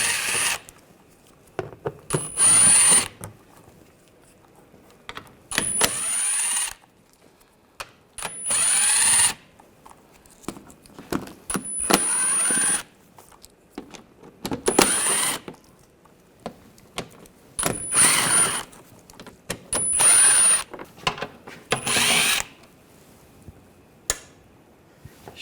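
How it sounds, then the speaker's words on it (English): Panel screws are driven out with an 8mm socket on the power tool beneath a 2009-2010 BMW 535i xDrive, the tool whirring in about a dozen short bursts separated by quiet pauses. "Take these screws out."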